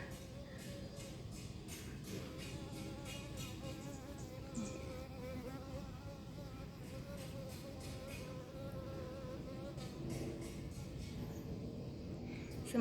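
Wasps and bees buzzing in a home garden with passion fruit and bitter gourd plants, a steady, close, droning hum that continues throughout with no talking.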